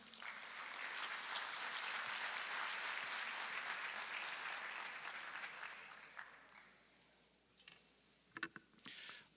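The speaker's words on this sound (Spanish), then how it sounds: "Recibámoslo con un fuerte aplauso" Sustained applause from a conference audience at a public accounting congress, dense and steady for about six seconds before thinning into scattered claps near the end.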